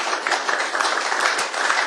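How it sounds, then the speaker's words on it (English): A crowd at a government meeting breaks into clapping for Porter. The applause is moderate, with scattered individual claps over a steady wash of hands and a little background murmur. "He deserves a round of applause for a lot of things"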